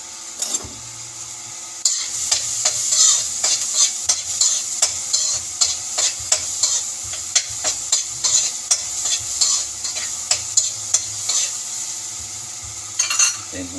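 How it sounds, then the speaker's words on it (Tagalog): Onion and garlic sautéing in a pan, a steady bright sizzle with rhythmic scraping and tapping of a spatula stirring close by, and no talking. "Tayin mo natin muna ng kaunti yung sibuyas bawang."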